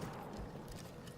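Horse hooves clip-clop in Battlefield 1, a faint, muffled patter of steps under steady in-game ambience, brief and moderately distant.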